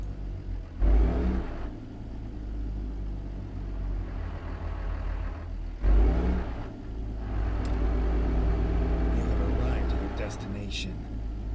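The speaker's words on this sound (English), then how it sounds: "That's a loud engine brake" In American Truck Simulator, a heavy truck's Caterpillar C-15 engine rumbles low and steadily, with two sudden louder engine brake bursts a few seconds apart, then a rising, sustained engine drone.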